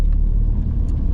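A big Jaguar car passes close by on a rainy day with a loud, steady low rumble of engine and tyres.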